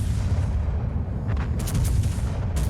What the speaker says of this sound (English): This time we're gonna fire one turret at a time, so that the Buffalo can't dodge everything